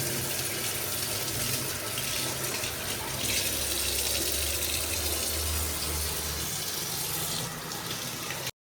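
Fish are washed under a running kitchen tap at home before frying, with a steady, close rush of water and faint splashing that continues almost to the end.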